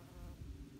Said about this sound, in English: That's a little bee.